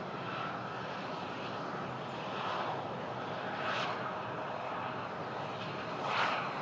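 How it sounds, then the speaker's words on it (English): A Bombardier CRJ 900 jet at Toronto Pearson airport, its engine a steady broad roar heard from a distance, swelling slightly a few times over the clip with no voices. "Bombardier CRJ 900."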